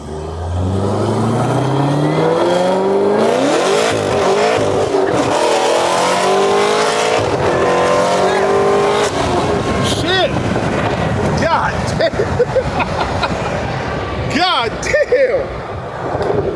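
A 900 hp Corvette ZR1 engine revs hard while driving, rising through loud sustained pulls with wind buffeting, then dropping into rougher, choppier revving, while a voice is heard over it.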